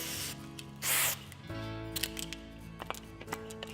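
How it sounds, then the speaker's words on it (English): An adhesive cleaner spray can blasts a short burst to clear leftover foam off a foam glue applicator gun, a brief close hiss followed by quieter handling clicks and rustles. "Take the adhesive cleaner, spray the little bit of foam off."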